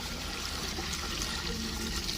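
Water pours steadily from a container into a cooking pot set over an outdoor fire for a village meat dish, a continuous close splashing rush with no talking.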